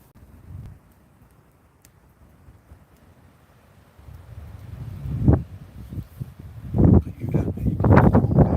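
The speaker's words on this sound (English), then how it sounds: "That wind's definitely picking up." Outdoors by a fireside, wind buffets the microphone as it picks up: quiet at first, then growing gusty low rumbles in uneven bursts.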